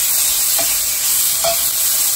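Beef sizzling in hot oil for a stir-fry, a loud, dense, continuous hiss with a couple of faint clinks of a utensil, no talking.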